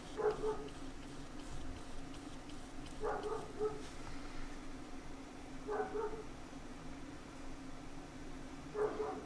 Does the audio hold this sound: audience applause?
no